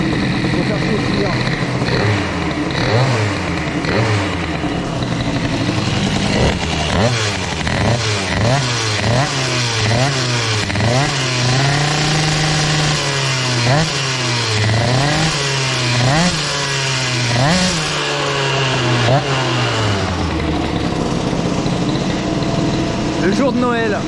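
A boosted scooter engine fitted with an Airsal CPI 70 kit, running a lean carburetor setting while cold, revs repeatedly in rising and falling bursts, loud and close, with a long sustained high rev in the middle and someone talking over it.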